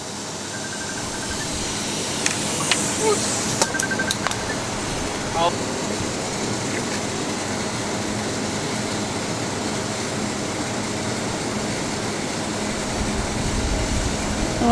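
A spray gun painting the engine bay of an R32 Skyline gives a steady, even hiss that runs the whole time, with a few brief clicks near the start.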